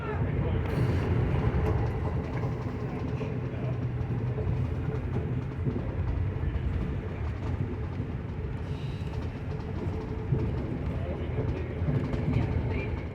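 Amtrak train running at speed on Metro North concrete-tie track near Croton-Harmon, a steady low rumble and rolling rail noise heard from inside the car, continuous and even throughout.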